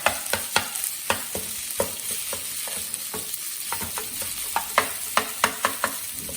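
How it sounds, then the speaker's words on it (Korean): Garlic fried rice is stir-fried with melting butter in a hot pan: a soft continuous sizzle is broken by repeated sharp scrapes and taps of a utensil against the pan, close up and unaccompanied. "밥을 볶아주시다가 열이 오른 팬에 버터를 넣고 버터를 녹이면서 밥에 버터를 같이 이렇게 볶아주세요."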